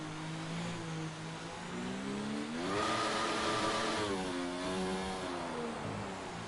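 An F1 car engine in F1 2019 revs while drifting, its pitch swooping up and down in a wavering whine; the sound is moderately distant and steady, with no talk over it.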